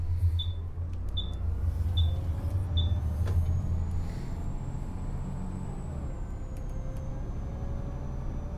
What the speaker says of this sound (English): And now we get to thrash the bus back up the hill again.